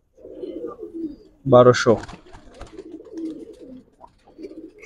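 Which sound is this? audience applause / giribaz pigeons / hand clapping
giribaz pigeons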